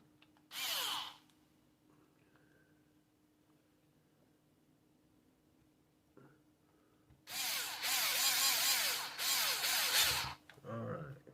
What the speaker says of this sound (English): Go ahead and put the screw on this one